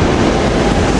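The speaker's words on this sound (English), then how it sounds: "Here we got Septa train 6848 leaving with rail cars" A SEPTA regional rail train, 6848, pulls away with its rail cars at Temple University station during rush hour, a loud, close, continuous rumble and roar of wheels and motors with no pauses.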